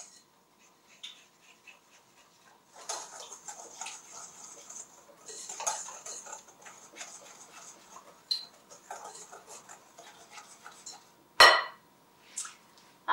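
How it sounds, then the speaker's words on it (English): Eggs and sugar whisked together in a bowl for a gelato base, quick light clicks and taps of a whisk against the bowl in bursts, fairly close, with one sharper knock near the end. "we're just going to mix this until it turns into a light, creamy, lemony yellow"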